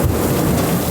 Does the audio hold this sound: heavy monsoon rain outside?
yes